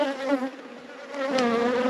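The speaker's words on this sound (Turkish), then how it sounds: "Arı bir aradaysa bir durum var demektir." Close, continuous buzzing of honeybees at a hive, a dense droning hum that swells slightly louder in the second half, with no voices.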